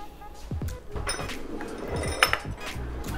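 A spoon clinks and rattles among dishes and cutlery in a kitchen, several bright close taps and a sharp chink, with a voice talking over the clatter.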